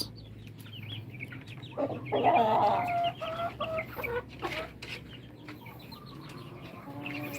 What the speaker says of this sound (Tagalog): So ito lang yung manok natin